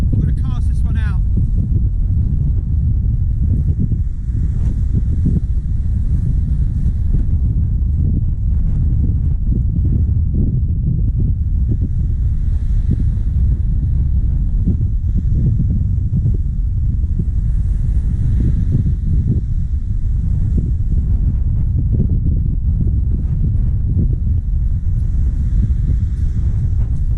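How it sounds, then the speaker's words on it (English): Strong wind buffets the microphone on a North Norfolk beach at Cley, a continuous low rumbling roar with gusts, and faint surf or water sounds may sit beneath it. "The wind's blowing in, but there's not a lot I can do."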